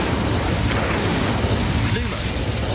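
Incendio fire spell being cast in Hogwarts Legacy, a dense, steady roar of burning blasts and rumbling bursts that holds loud from start to end, with a voice faintly underneath.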